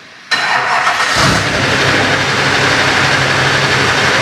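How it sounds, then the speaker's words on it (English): Chevy 3500HD diesel truck engine cranking and catching abruptly after a short quiet moment, then settling into a loud, rough, steady idle close by. "one noisy truck"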